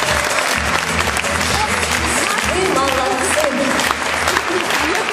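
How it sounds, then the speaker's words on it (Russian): Audience at a wellness forum on healthy eating bursts into sustained, loud applause that fills the whole stretch, with a host's voice briefly over it. "Наградите, пожалуйста, себя аплодисментами."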